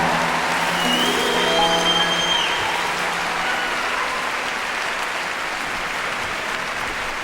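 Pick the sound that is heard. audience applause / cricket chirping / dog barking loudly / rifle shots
audience applause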